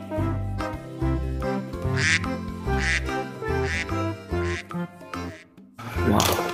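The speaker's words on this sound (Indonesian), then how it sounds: "Yang ini ada bebeknya." A duck in the video game Jurassic World Evolution 2 quacks repeatedly in a steady series of calls, loud and close, over game music.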